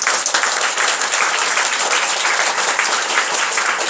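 Dense, steady applause from a church youth gathering thanking a brother for preparing a sermon on Nehemiah, loud and continuous throughout with no voices over it.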